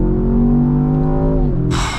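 A deep 2025 Land Rover Defender OCTA engine rumbles and burbles steadily up close while off-roading, its pitch dipping as the revs fall, before a harsh rush of noise cuts in.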